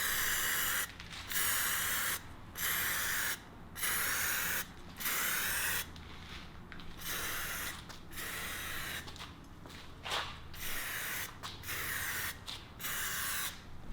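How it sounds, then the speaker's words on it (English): An aerosol can sprays Superwrap gloss black onto a car wheel in repeated hissing bursts about a second long, separated by short pauses, close and fairly loud with no talking. "So you're gonna slow down your spraying just a little bit"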